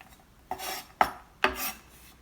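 A knife julienning vegetables into thin strips for pasta: three close, separate rasping cuts about half a second apart against a quiet background, without speech.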